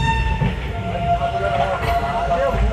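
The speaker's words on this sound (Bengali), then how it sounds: "আমাদের ট্রেন ছেড়ে দিয়েছে এখন এই একটু আগে ছাড়লো ট্রেন" Passenger train moving just after leaving the station: a loud, steady rumble of the carriages with a tonal hum and some light rattling, heard from inside.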